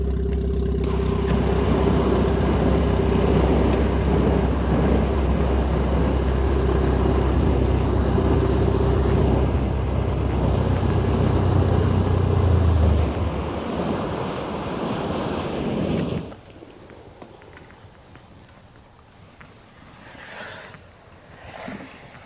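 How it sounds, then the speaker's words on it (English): Thermite of iron oxide and aluminum burns through a car, with molten metal pouring onto propane tanks and the gas tank below. A loud, steady roaring hiss runs for about sixteen seconds, then cuts off sharply, leaving faint background noise. "So you can see the liquid metal pouring down through, hitting those propane tanks."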